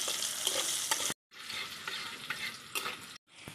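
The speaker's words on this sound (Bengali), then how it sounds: "আলুটাকে ভেজে নেব।" Potato pieces seasoned with salt and turmeric frying in a pan, a loud close sizzle with stirring scrapes, cut by two brief silent gaps.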